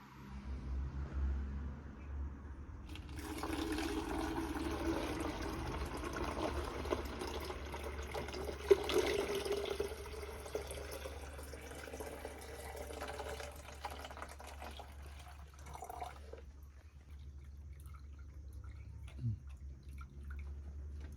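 Water runs steadily into a bottle for most of the clip, a continuous splashing fill over a low background hum that stops near the end.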